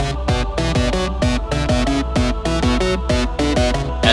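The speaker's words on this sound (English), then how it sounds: "so what you hear now is the electric screamer" A bright, buzzing electric screamer synth line playing within a song, repeating staccato notes in a steady driving rhythm over a sustained bass, loud and dense with no voices.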